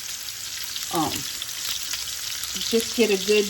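Thick cut pork chops sear in a hot pan, a steady broadband sizzle running throughout, with a person speaking briefly over it and light clattering near the end.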